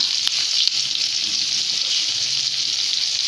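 Onion and two cloves of garlic frying in hot oil for a fish curry give a loud, steady, close sizzling hiss throughout, with no talking.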